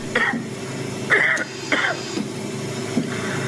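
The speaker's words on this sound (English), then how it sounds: "Yeah, that's the cough." Several short coughs and throat-clearing sounds break through steady background hum, three or four bursts spaced about half a second apart.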